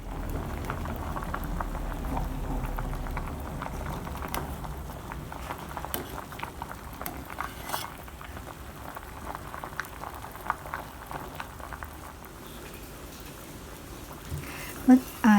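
A pot of herbal drink made from Carissa carandas fruit boils steadily, with quiet, continuous bubbling and occasional pops, and a person talks faintly over it.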